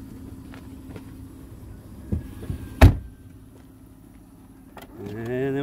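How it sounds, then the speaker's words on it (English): Power sliding doors on a 2014 Chrysler Town and Country shut. A quiet motor hum runs under the closing, a sharp loud thud lands near the middle, and a rising whine swells near the end. "But it does have the power sliding doors."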